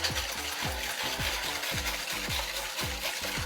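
A whisk beats pancake batter for banana caramel pancakes in a bowl, a steady rhythmic wet slapping of about three strokes per second, close and continuous under a soft hiss, with no talking.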